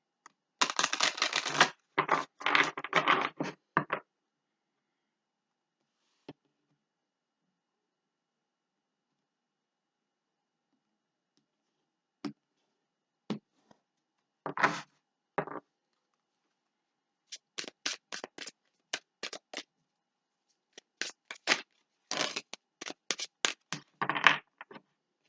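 Tarot cards are shuffled in several quick bursts of riffling, crisp papery flutters separated by silent pauses, close and fairly quiet.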